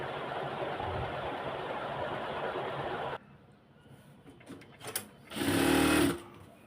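A sewing machine fitted with a shirring guide stitches fabric for a shirred skirt in a steady, close whir, then stops. Softer rattles follow, then a short second burst of stitching.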